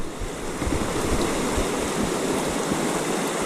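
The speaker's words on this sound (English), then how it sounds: "I gotta get him down this white water." White water rushes steadily down the West Walker River, a loud, continuous broadband roar up close with low gurgling surges, and no voices over it.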